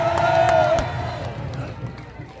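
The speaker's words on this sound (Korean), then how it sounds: "여러분 큰 박수 부탁드리겠습니다" A crowd at a political rally cheers and applauds, a loud swell of voices and shouting with a sustained tone and scattered claps that fades over a couple of seconds.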